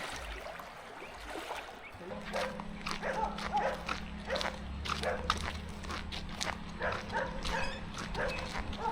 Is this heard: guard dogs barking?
yes